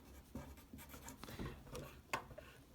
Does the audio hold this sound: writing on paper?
yes